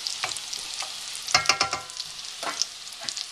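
Polpette meatballs frying in a pan are stirred, giving steady bright sizzling with a cluster of sharp scraping knocks from the utensil partway through.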